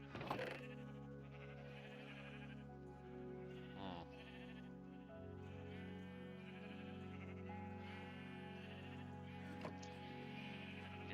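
Sheep bleating in a blocky sandbox video game, a steady run of nasal, wavering bleats layered over quiet background game music, fairly soft and close, with no talk.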